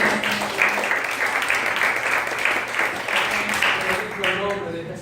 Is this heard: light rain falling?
no